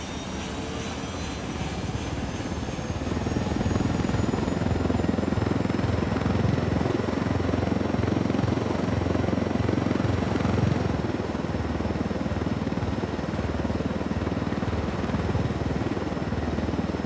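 Helicopter flying in the Ghost Recon Wildlands video game, a steady loud rotor and engine drone that holds throughout with no talk over it.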